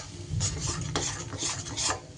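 Ground coriander, cumin, turmeric and Kashmiri chilli powder stir-fry in a pan, a soft sizzle beneath repeated rhythmic spatula scrapes and metal clinks, close and brief.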